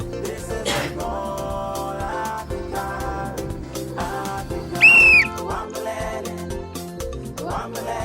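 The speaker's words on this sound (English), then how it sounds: "At the sound of the whistle," A single whistle blast signals the start of a game, a short, shrill, slightly wavering tone rising clearly over steady background music.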